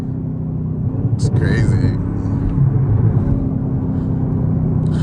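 A Camaro ZL1 is driven at high RPM with a steady, deep engine rumble and a faint supercharger whine over it from inside the cabin. Someone speaks briefly over the drone.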